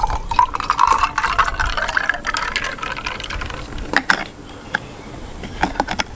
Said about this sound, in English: Pour her in.